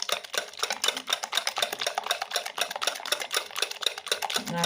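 Whisk beating a mixture of milk and oil in a bowl, a fast, steady clatter of quick metallic strokes against the bowl, close and continuous with no talking.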